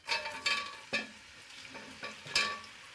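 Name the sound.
meat frying in oil in a hot kazan for plov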